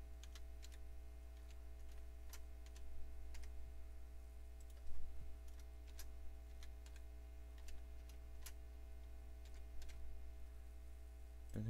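Quiet, irregular key clicks as a password is typed on a computer keyboard, scattered taps over a steady low electrical hum.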